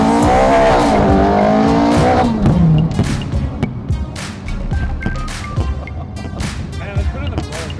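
A Ferrari Scuderia drives hard over a bumpy road with its engine roaring close by. A voice talks over the first few seconds, then quick gear shifts snap through the engine note at a steady, repeated pace.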